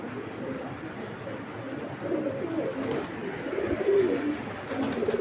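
Soft, low coos of pigeons, a pair of mili (Belgian-line) pigeons, murmur repeatedly in a noisy background, several birds close by, with no talking.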